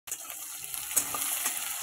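Onions drop into hot oil for a Bengali-style fish curry with bay leaf and whole spices, setting off a steady close sizzle. The hiss stays loud and even and carries a faint crackle of spattering.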